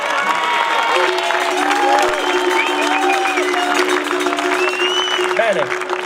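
An audience claps at a skyrace award ceremony, dense sustained applause filling the space while people talk and call out over it, with a steady tone running underneath throughout.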